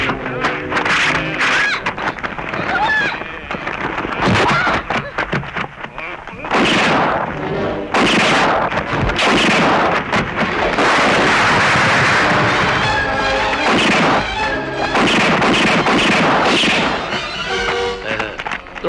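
Gunfire in a 1983 Thai action movie: loud, repeated gunshot bursts and booming artillery-like blasts come in clusters over about nineteen seconds, mixed with music and shouting voices.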